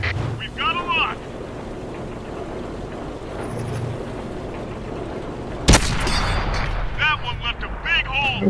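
A single sharp, loud cannon blast from an FV 4202 tank in a tank battle game, amid steady engine rumble, with radio-style voices talking before and after.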